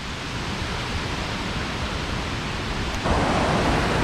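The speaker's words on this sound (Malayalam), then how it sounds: "ഇത് വെള്ളം കുത്തിയൊലിച്ച് വരുന്നുണ്ട്, നല്ല സൗണ്ട് ഉണ്ട് കേട്ടോ ഇവിടെയൊക്കെ" Water gushes down the Thommankuthu forest waterfall in a dense, continuous roar that swells slightly louder partway through, close by and with no voices.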